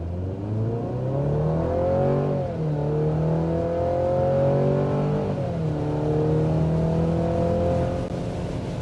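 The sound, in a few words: 2024 midsize pickup truck accelerating, Tacoma or Colorado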